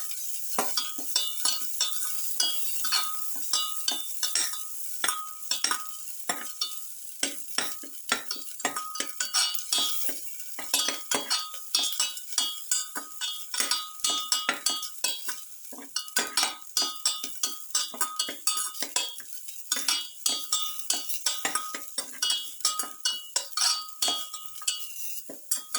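Quail pieces with ginger and salt are sautéed in a pan, giving a hissing sizzle broken by frequent rhythmic clinks and scrapes of a utensil against the metal, close and busy throughout.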